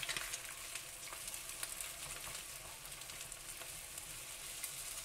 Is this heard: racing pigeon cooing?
no